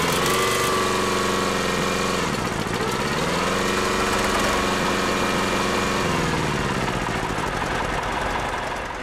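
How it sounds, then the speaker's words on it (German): A vintage four-cylinder tractor engine, started by a two-cylinder petrol pony motor, rumbles and chugs loudly and steadily at close range, its pitch dipping briefly then settling into a heavy, even idle. "man nutzt einen Benzinmotor, einen Zweizylinder, um den Vierzylindermotor anzulassen"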